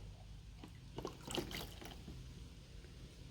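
A child named Emmett splashing and playing with water in a pool in a garden, with soft scattered splashes and trickles, a louder burst in the middle, at close to moderate distance.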